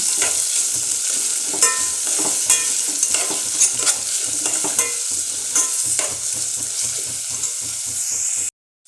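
Sliced onions sizzle in hot oil for egg biryani while a spoon stirs and scrapes the pan in steady repeated strokes, close and loud, ending abruptly, with no voices.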